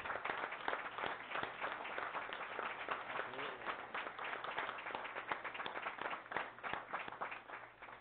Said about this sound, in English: Give him a round of applause as he comes forward